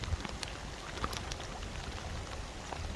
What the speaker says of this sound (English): The rain is very heavy